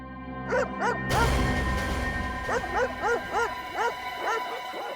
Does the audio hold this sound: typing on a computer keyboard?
no